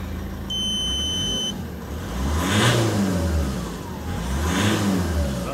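A Ford Focus MK2 diesel engine fitted with a boost gauge starts up, preceded by a short electronic beep, then idles and is revved twice, each rev swelling loud and close before dropping back to idle.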